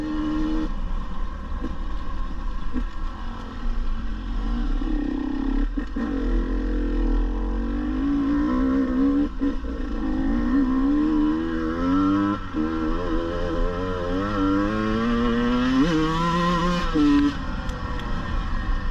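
A 2022 KTM 150 TPI two-stroke motorcycle engine drones steadily while being ridden, its pitch rising and falling as the throttle changes, with a sharper surge near the end and no talking.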